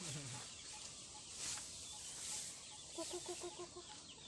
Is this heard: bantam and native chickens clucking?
yes